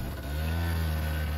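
A scooter engine revs and pulls away on a remote forest highway, a steady mid-pitched drone holding close and loud for a short moment with no talk.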